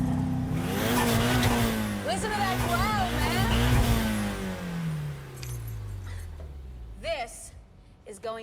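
Car engine revving in the video game Need for Speed (2015), a loud, rising and falling engine roar with tyre noise that runs under steady talking throughout.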